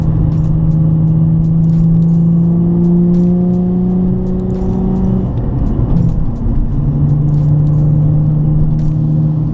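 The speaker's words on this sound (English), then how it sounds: "The car definitely has in-cabin noise" A steady, low exhaust drone fills the cabin of a Nissan 350Z with a muffler delete, cruising in third gear at 3,000 RPM, holding a constant pitch with a brief shift midway, loud and continuous without talking.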